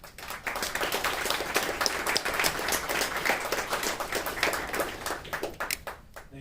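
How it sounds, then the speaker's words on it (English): Audience applause and clapping at a Space Apps 2019 event for the speaker coming on stage, a steady wash of many hands at moderate level, fading out near the end. "Please give him your applause"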